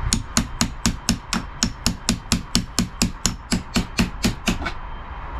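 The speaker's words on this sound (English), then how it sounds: "kind of putting the hammer right here" A hammer strikes a locked safe found in storage, about twenty sharp metallic blows in a fast, even rhythm, loud and close, with no talking over them.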